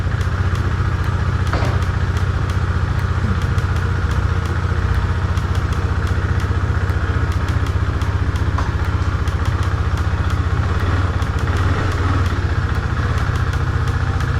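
Husqvarna Svartpilen motorcycle engine idling nearby with a steady, rapid mechanical thrum and light clatter, continuous and fairly loud throughout with no talking.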